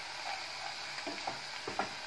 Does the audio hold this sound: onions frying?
yes